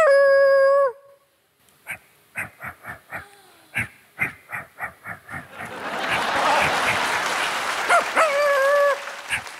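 A comedy stage performer vocally imitates dogs, giving a long howl, then a run of repeated rhythmic barks, before applause and crowd noise swell over a final howl.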